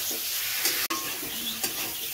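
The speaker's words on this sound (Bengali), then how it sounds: "মশলা কষাচ্ছে।" Spices sizzling and being stirred in a pan, a steady close frying hiss with scraping strokes and a couple of brief clanks, no voices.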